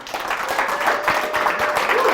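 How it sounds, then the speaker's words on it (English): A small in-studio audience applauding during a live-streamed fireside chat at a media studio in Colorado, with continuous, moderately loud clapping that stays fairly even throughout. "can you give yourselves a big round of applause so that they can hear you on the"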